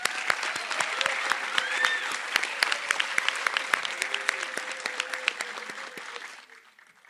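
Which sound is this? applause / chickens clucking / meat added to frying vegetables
applause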